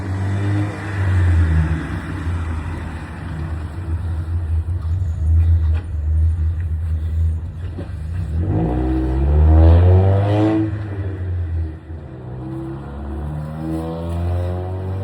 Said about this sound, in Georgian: აი ის მარშრუტკა ხალხო ხრიალებს.